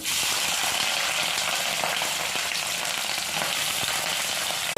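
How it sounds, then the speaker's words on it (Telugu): Bitter gourd pieces fry in hot oil in a home kitchen, a loud, dense, steady sizzle that stays constant throughout, with a few faint scrapes mixed in. "వేడైందని కాకరకాయ ముక్కలు వేసుకుందాం"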